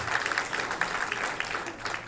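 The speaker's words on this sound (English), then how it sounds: "Please give her a round of applause" Applause from an audience at a mining industry forum, greeting the Secretary with a steady wash of clapping from many hands, moderately loud and continuous throughout.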